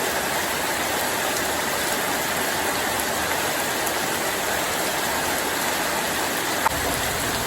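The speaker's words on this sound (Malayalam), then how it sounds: "ഈ വേനൽ മഴയല്ലേ" Steady rain pouring down, a dense even hiss of drops on surfaces filling the whole stretch, with one faint tap near the end.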